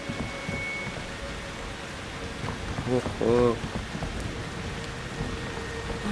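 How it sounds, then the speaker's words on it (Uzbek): Steady rain from a blood-rain storm in the horror game Outlast 2 hisses throughout, with faint thunder. A player's brief exclamation and some talk cut in partway through. "qonli yomg'ir yog'yapti."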